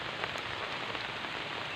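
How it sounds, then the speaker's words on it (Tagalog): Heavy rain pouring steadily during rambutan picking, a dense, even hiss of drops on surfaces with no voices, fairly quiet overall. "Malakas na ulan na yun."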